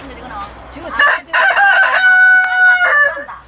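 A rooster crows loudly and close by, with chickens clucking around it outside a rural family home, the calls repeating in quick bursts.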